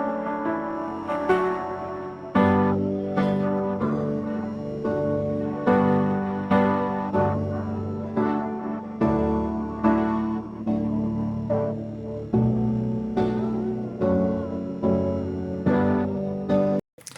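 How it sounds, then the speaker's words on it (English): Isolated piano track extracted by track separation: chords play in a steady rhythm, each one struck and decaying. The tone sounds slightly smeared and watery, with faint separation artifacts. "Let's see how the piano sounds."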